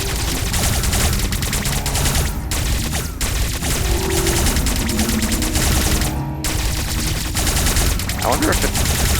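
Rapid automatic gunfire from the Metroid Dread video game, a dense continuous barrage of shots with brief gaps, loud and close over game music and effects.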